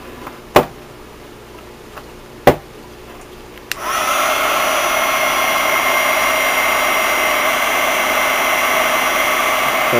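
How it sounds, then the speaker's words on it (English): A heat gun blows hot air over damp gesso on an art background, switching on partway through with a loud, steady whooshing roar after a few sharp knocks. "if y'all will excuse the noise from my heat gun for a second"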